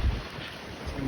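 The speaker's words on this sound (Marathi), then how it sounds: "वारा कसला आहे ते." Wind gusts across the microphone at the JNPT port viewpoint, a brief rough rumbling buffet with a low roar that swells at the start and again near the end.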